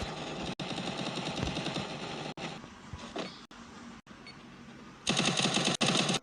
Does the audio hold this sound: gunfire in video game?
yes